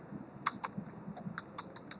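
Keys clatter on a computer keyboard in a quiet room, a quick run of crisp, separate clicks, a couple of louder strikes first and then a steady patter of lighter taps.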